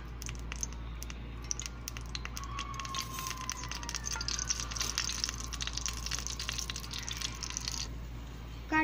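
Mustard seeds spluttering in hot oil in a pan while tempering for Kerala sambar, a dense, steady patter of small pops and crackles running throughout at moderate level, with no talk.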